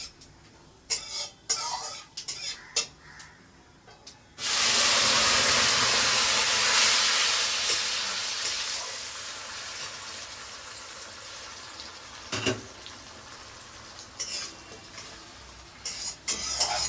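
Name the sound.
tomato paste sizzling as it fries in hot oil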